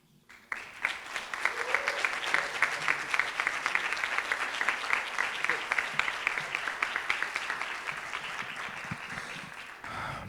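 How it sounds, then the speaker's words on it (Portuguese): Audience at a public debate on recognition of an LGBT+ pride parade, applauding steadily for around nine seconds, dense crowd clapping that rises quickly and fades near the end. "Palmas aí para Lúcia Castro."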